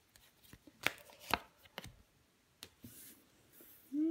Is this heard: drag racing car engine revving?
no